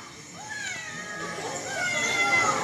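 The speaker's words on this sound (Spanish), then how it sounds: "¡Parece un bebé jaguar!" A baby jaguar cub calls in high, wavering mewing cries that rise and fall over a couple of seconds, close and fairly clear above a light background.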